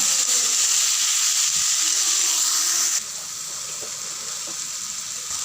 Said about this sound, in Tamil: தக்காளியும் போட்டு நல்லா வதக்கிக்கலாம்.